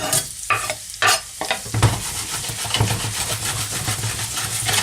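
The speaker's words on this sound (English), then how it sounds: "And now put the onion in." Chopped onion sizzling and frying in a pan with butter for chicken adobo, a steady close crackle with a few stirring scrapes and clatters at the start.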